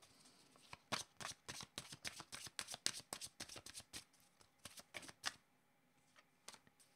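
Tarot cards being shuffled by hand, a rapid run of crisp riffling flicks and snaps, close and fairly soft, continuing steadily for several seconds before stopping, with no voices.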